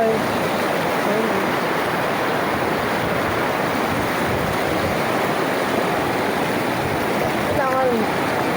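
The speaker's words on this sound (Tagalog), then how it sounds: "malakas ang alon" Strong sea waves heard while swimming, a constant loud rushing and churning of water close by that never lets up, with a faint voice in the background.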